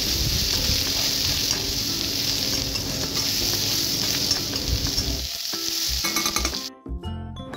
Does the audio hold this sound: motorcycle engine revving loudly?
no